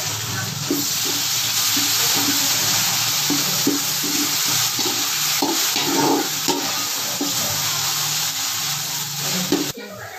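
Chicken biryani ingredients sautéing in a pan, giving a steady close sizzle broken by rhythmic scraping stirs and a few soft knocks.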